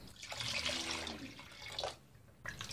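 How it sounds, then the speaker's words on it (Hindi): A glass of water pouring and splashing into a pan, close and quiet, in a couple of bursts with a short pause between them. "एक गिलास पानी डालेंगे।"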